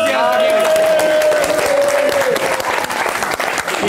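A studio audience breaks into loud, dense applause that continues steadily for several seconds, with a sustained tone and some voices mixed in.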